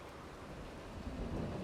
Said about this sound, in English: I think the rain's just starting.